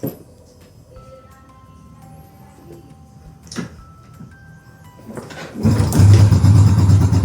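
A Yamaha Jupiter Z1 motorcycle is started with its electric starter: quiet ticks and a short whirr first, then the engine catches near the end and settles into a loud, steady running sound.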